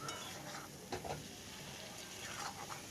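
Banana flower is stir-fried with spices for a prawn mocha ghonto, a soft continuous sizzle with occasional spatula scrapes and clinks against the pan, quiet and close, without speech.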